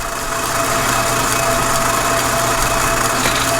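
A metal lathe cuts threads on a 3/4-inch drill rod mandrel with a constant close machine hum and a faint steady whine.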